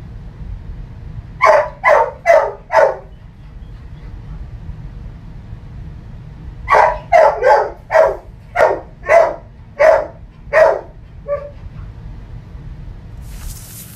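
Toby, a dog shut in his crate downstairs, lets out two bursts of sharp, loud barks: four quick ones, a pause, then a longer run of about eight ending in a short whine.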